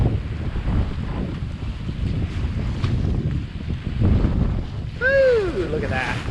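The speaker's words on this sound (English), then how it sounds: "These breakers, you can hear them." Ocean breakers roar against a rocky shore in the Dominican Republic, a loud, continuous rushing wash with heavy wind noise buffeting the microphone.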